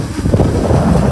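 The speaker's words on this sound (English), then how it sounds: "really being buffeted by the wind" Loud, rumbling wind gusts batter the microphone in a short, continuous low roar.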